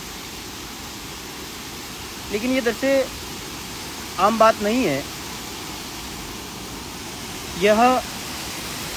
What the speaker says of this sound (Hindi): यहाँ इस झरने के पानी, बहते हुए पानी की या गिरते हुए पानी की आवाज़ आ रही होगी